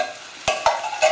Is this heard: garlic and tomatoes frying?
yes